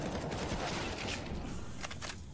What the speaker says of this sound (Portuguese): tiros rolando